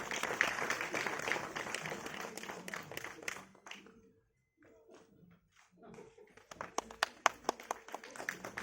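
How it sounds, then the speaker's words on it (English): Audience applause for a speaker at a cultural heritage event, steady clapping at moderate level that fades out midway, followed by scattered claps that pick back up near the end. "a round of applause for Dr."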